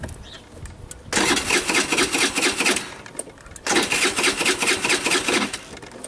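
Electric starter on a Tao Tao Thunder 50cc scooter cranking in two sustained whirring bursts of about two seconds each, rhythmic and close, with a short pause between them and no catch.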